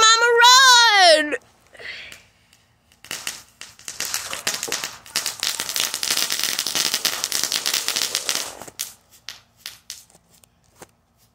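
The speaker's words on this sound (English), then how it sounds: "Firework gone." A rapid, crackling string of firecracker bursts rattles on for several seconds, preceded by a short high whistling tone and followed by a few scattered pops as it fades.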